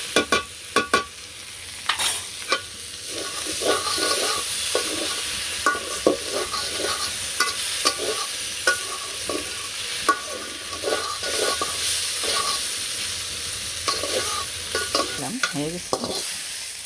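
Garlic fries and sizzles in a pan in a village kitchen, with a steady crackle running throughout and repeated scraping, knocking stirs of a utensil against the pan.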